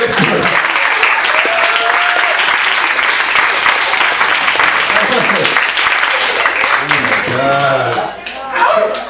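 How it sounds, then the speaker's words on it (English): Loud, sustained applause from an audience at a live stage show, dense clapping filling the whole stretch with some cheering and voices mixed in, dipping briefly near the end. "Let's give it up for the crowd."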